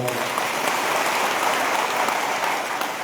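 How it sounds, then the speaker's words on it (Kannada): Steady, dense applause from a village gathering audience, continuous even clapping throughout with no pauses. "ನೀವೆಲ್ಲ ಚಪ್ಪಾಳೆ ತಟ್ಟಿದ್ದೀರಾ"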